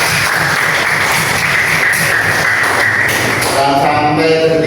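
A class of teacher-training participants applauds in a room during a performance assessment session, with steady clapping that fills the whole clip and a few voices rising near the end.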